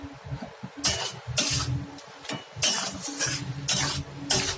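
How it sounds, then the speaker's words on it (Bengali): Goat head pieces with salt, turmeric, chilli powder and whole green chillies stir-fried in a pan, with bursts of scraping and clattering from the stirring spoon over a low sizzle, close and fairly loud, no voices. "সব কিছু ভালো করে এখন কষিয়ে নিতে হবে"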